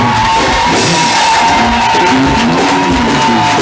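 A loud, continuous roar of shouting and cheering from a church congregation at an ordination ceremony, with tonal voices and whoops mixed in throughout.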